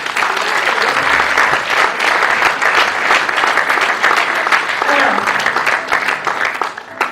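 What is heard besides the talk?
theatre audience applauding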